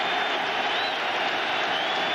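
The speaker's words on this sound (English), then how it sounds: "Crowd again, getting into it." A football stadium crowd at a Miami vs Syracuse college game roars in a steady, broad wash of cheering and applause, with no single voice standing out.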